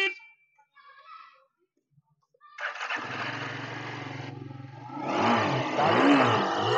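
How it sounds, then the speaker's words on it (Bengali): A second-hand Yezdi motorcycle with about 23,557 km on it, at a used bike showroom near Tollygunge, Kolkata, cranks and fires up, then settles into a steady close idle and briefly revs louder. "গাড়ির সাউন্ডটা একবার স্টার্ট করি।"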